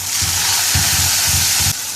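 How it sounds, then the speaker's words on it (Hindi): Tomato puree hitting browned onions in a pan for dhaba-style chana dal makes a loud, dense, continuous sizzle with rumbling bursts of bubbling, easing slightly near the end. "जब ये प्याज जो है वो ब्राउन हो जाए तो इसमें 2 टमाटर की प्योरी बना के पेस्ट सा वो डालेंगे"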